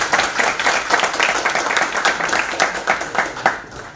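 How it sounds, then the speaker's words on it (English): A room of attendees at a global health lecture applauds a speaker, with loud, close, dense clapping that swells and pulses unevenly and then begins to thin toward the end. "Let's give a round of applause to Dr."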